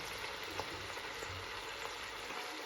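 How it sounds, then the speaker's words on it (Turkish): Steady, soft sizzling of peppers frying in a pan, a continuous crackling hiss with faint scattered pops. "Bakın arkadaşlar biberlerimiz de kavruldu."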